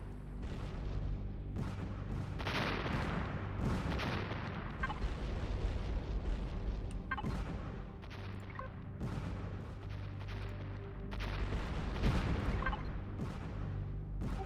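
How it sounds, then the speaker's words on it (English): Artillery missiles fire from twin launchers in the sci-fi survival game Empyrion: Galactic Survival. A dense, continuous barrage of loud booms and blasts rolls on throughout with no pauses. "these are the artillery missiles"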